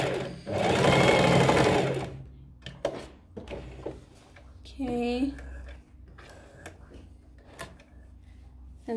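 A sewing machine stitches a fabric cushion cover in one fast, loud burst of about two seconds, followed by quieter clicks, handling of the fabric and a short squeak in a quiet room.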